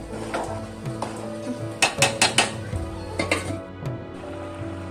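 A metal lid goes onto a pot of red lentil khichdi: several quick metallic clinks and clatters in the middle, ringing over a steady low kitchen hum, with no talking.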